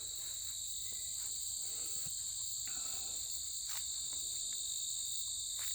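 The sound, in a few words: insects singing in an old field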